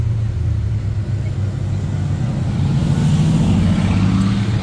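A Ferrari Testarossa followed by a Lamborghini Huracan drive past on a Monaco street, their engines a steady low rumble that swells louder toward the end as they approach.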